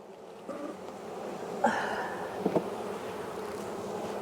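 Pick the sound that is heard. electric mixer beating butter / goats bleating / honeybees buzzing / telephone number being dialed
honeybees buzzing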